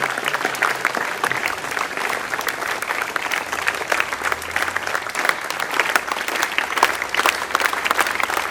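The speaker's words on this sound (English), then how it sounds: "let's have a round of applause for him and also for Mr. Ranjan Tandon who is here" A school assembly audience on an old boys' day claps for honoured guests, a steady, fairly close roar of applause from many hands holding an even level from start to finish.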